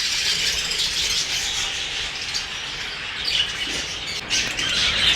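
Lovebirds in a breeding setup fill the space with dense, continuous high-pitched chattering and squawking from many birds at once, a busy flock sound with no pauses.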